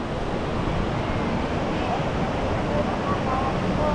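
A river waterfall at Bagsit River in Palauig, Zambales rushes as a steady, broad roar, close and continuous, with voices talking faintly beneath it.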